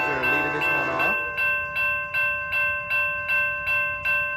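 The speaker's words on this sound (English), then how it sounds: "Here comes Amtrak 727 going to San Jose Diridon Station." Amtrak Capitol Corridor passenger train led by SC-44 Charger locomotive 2108 passing 105th Ave in Oakland, California: a steady ringing tone pulses about twice a second, close and fairly loud, after a brief low voice at the start.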